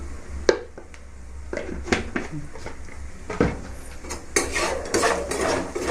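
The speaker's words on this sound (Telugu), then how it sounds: "వేసి ఆయిల్లో బాగా వేయించుకోవాలి" Salt and chili powder fry in oil in a pan, with irregular stirring scrapes, clinks of a utensil against cookware and a soft sizzle underneath, close by.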